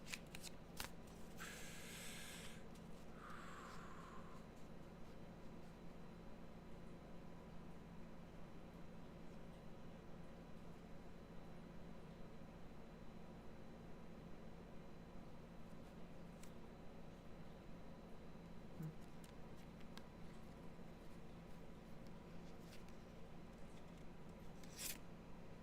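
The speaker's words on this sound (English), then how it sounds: "These are just a different size card than I'm used to typically shuffling, and I'm still getting used to them." Tarot cards, a size larger than usual playing cards, are shuffled by hand: soft riffling bursts near the start, then quiet handling and a faint steady hiss, with no talking.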